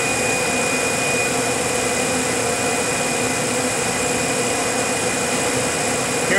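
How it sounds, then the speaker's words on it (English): A single vacuum pump on a Vacuum Atmospheres HE-243-2 glove box runs steadily, a dense continuous mechanical roar and whine with an unchanging level throughout. "So we use just the one vacuum pump."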